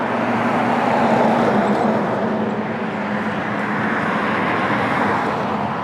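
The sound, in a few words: highway traffic passing by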